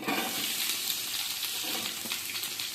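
Green chillies and onions fry in oil for a one-kilo batch of vegetable ghee rice, giving a steady, close, dense hiss and sizzle with no talk.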